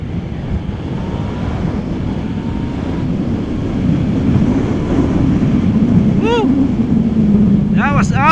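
A Yamaha MT-09 from 2020 riding under steady engine drone and heavy wind rush, with quick-shifter gear changes near the end heard as short sharp pops and rising engine pitch steps in quick succession.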